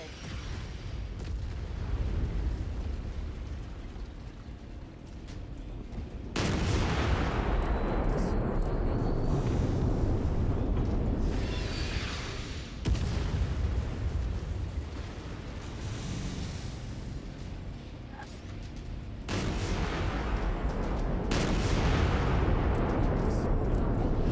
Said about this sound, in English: We're taking a lot of damage from artillery, unfortunately.